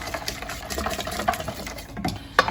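Red cabbage salad with sugar, salt and pepper is tossed and stirred in a bowl, giving close, steady scraping and rustling with soft irregular clatters and one sharper knock near the end.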